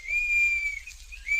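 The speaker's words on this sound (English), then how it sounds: "he always stands on his head and blows his whistle" A boy's whistle blown in an old Lux Radio Theater drama, a steady shrill tone held for most of a second and a half, briefly wavering before rising again, close and fairly loud with no talk over it.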